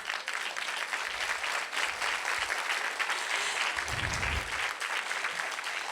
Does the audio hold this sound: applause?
yes